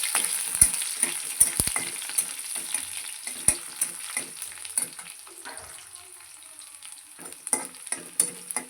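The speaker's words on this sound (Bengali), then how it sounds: "রসুনগুলো লাল লাল করে ভাজতে হবে" Garlic cloves frying in oil with dried chilli and black cumin, making a crackling sizzle and uneven spitting pops, with a few sharp pan knocks and stirring scrapes, close up and without talk.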